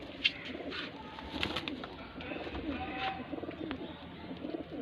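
Pigeons kept by a pigeon fancier on a rooftop coo softly and intermittently, faint and close, with a few brief chirps over a quiet background.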